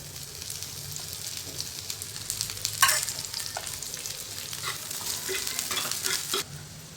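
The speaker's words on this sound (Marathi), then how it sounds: "आता टाकायचं कांदा. स्लाइस करून टाकायचं, म्हणजे लवकर भाजतं. आणि भरपूर तेल टाकायचं." Sliced onions fry in plenty of oil for a village-style modak amti, with a steady close sizzle and scattered scraping stirs, one louder knock partway through, before the sound drops away at the end.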